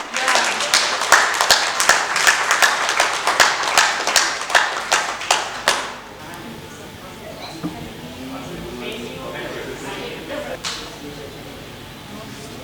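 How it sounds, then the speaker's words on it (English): An audience at the SHANCON 2025 closing ceremony gives a round of applause: distinct, rhythmic hand claps ring out for about six seconds, then fade into quieter room noise as someone talks. "A big round of applause from everyone."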